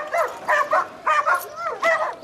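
Police dogs bark in a quick rhythmic series of sharp, fairly close yelps, with several bursts in a row and no talk over them.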